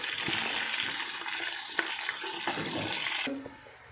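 Curry leaves frying crisp in hot oil for a thin poha chivda, stirred around the pan with steady crackling sizzle and occasional sharp scraping knocks of the spoon, close and continuous before easing off near the end.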